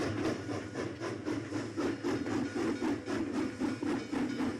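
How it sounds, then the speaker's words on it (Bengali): A train departs with a steady, rhythmic clatter of wheels over rail joints. The chugging pulses repeat evenly under a continuous rumbling hiss, moderately distant and fairly quiet, with no voices. "ট্রেন ছেড়ে দিল।"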